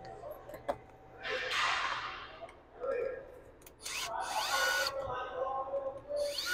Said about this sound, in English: if you're using power tools, just make sure you're careful with this when tightening them